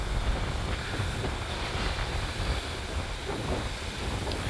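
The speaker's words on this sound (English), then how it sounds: "The wind is really blowing." Strong wind blowing outdoors beside a pool at a Dubai rental, a loud continuous rushing roar with heavy gusty buffeting across the microphone.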